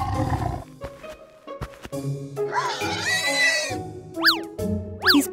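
A cartoon tiger roars among farm animals, with snarling roars mixed with springy boing effects, rising cartoon whistles and short bleats, all loud and close in a busy animated scene.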